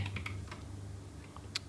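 Typing on a Geek GK61 mechanical keyboard, a 61-key RGB board, gives a few scattered, fairly quiet key clicks close to the microphone over a low hum, with one sharper keystroke near the end.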